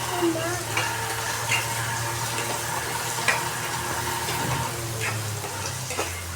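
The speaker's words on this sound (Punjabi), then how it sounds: "ਆਪਾਂ ਹੁਣ ਭਿੰਡੀ ਨੂੰ ਹਿਲਾ ਦਾਂਗੇ ਚੰਗੀ ਤਰ੍ਹਾਂ" Okra stirred in a frying pan gives a steady close sizzle with soft scraping and occasional light taps of the spatula, continuous and even throughout.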